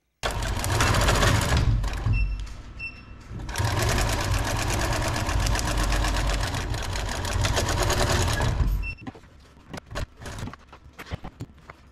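Sewing machine stitching suspenders, running in steady loud bursts with a brief pause near two seconds, then stopping toward the end, followed by scattered clicks and handling noises.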